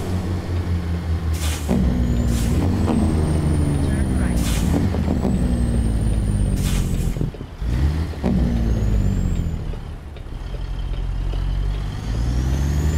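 Jake brake on a White Freightliner cab-over semi hauling a triple box trailer in American Truck Simulator, a steady low engine drone with harmonic rumble, punctuated by brief hissing bursts, with a voice talking over it.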